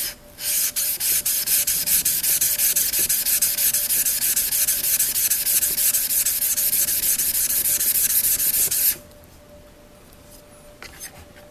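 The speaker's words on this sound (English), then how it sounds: "Okay, and then you need to sharpen the bevel now." An old paring knife's bevel is sharpened on a stone, a loud continuous gritty rubbing for about nine seconds with steady strokes, then it stops, leaving quiet room tone and a few faint taps.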